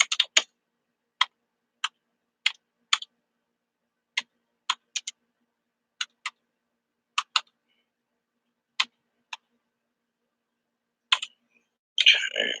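Sparse keyboard typing: isolated single key clicks spaced irregularly over several seconds, fairly close and dry, with a brief burst of rustling noise at the end and no talking.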